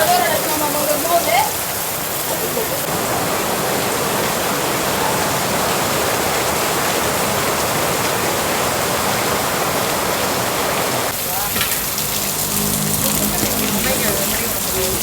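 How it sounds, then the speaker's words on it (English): Heavy rain pours steadily and loudly in a hidden corner of the Philippines, a dense unbroken hiss filling the whole stretch with a brief shift in texture near the end. "here comes the rain again"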